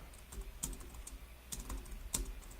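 Rapid keystrokes on a computer keyboard clack in uneven clusters with brief pauses, close and clear against a low background hum, with no voices.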